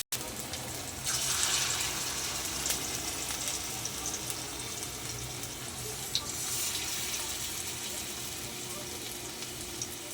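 Brahmi leaf fritters dropped into hot oil, a steady close hiss of frying that swells at times, with faint clinks of utensils throughout.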